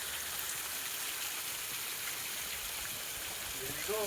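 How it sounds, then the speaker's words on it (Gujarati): Steady broadband rush of water flowing down a hillside stream at Pavagadh, continuous and fairly close, with no talk over it. "અહીંયા પણ પાણી આવે છે."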